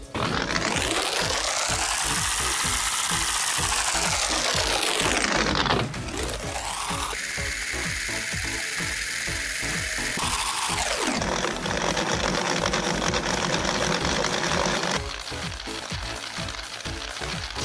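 A homemade hand-crank generator with improvised gears is cranked continuously, giving a loud whirring, rattling mechanical drone that rises and falls in pitch with the cranking speed.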